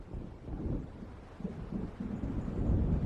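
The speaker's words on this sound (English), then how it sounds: "It seems there's a storm coming." Low, faint rumbling thunder from an approaching storm in a video game, uneven soft rolls over a few seconds with no voices.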